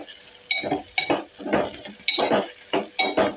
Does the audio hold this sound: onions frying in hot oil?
yes